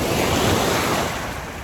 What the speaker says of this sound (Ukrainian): яке гарне море